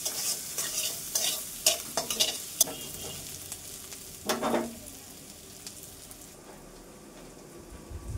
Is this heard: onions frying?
yes